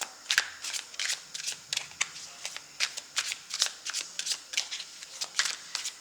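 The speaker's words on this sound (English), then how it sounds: "I'm going to pull one more card here." A deck of tarot cards is shuffled by hand in quick, rhythmic riffles, each burst of papery flutter followed by a short pause, close and clear with no talking.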